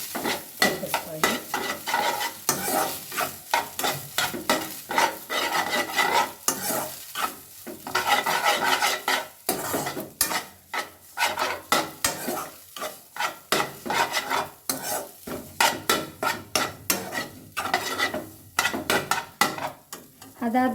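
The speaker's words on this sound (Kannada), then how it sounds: "ಹಾಕ್ಕೊಂಡು ಚೆನ್ನಾಗಿ ತಿರುಗಿಸ್ಕೊಳ್ಳಿ." Noodles with egg are stirred in a sizzling pan, a continuous rhythmic scraping and frying sound of utensil against metal, close and steady throughout.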